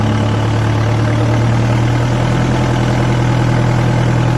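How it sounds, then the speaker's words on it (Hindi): Kubota MU4501 4WD tractor engine revving hard with the brakes held fully on, a loud, close, steady diesel roar with a strong low hum throughout. "और ट्रैक्टर ने रेस पकड़नी स्टार्ट कर दी है"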